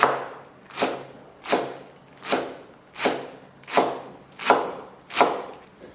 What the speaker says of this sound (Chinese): 接下来准备一把控干水分的韭菜切碎